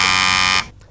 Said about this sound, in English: Fingers on the buzzer, both teams.